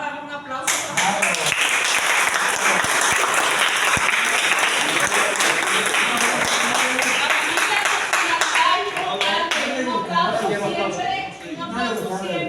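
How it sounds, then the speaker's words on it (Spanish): Audience applause at a conference on Catholic migration to evangelicalism, a loud, sustained burst of many people clapping that fades after about nine seconds as a voice starts speaking. "vamos a dar un aplauso"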